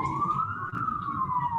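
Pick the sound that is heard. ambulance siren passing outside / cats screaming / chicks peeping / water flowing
ambulance siren passing outside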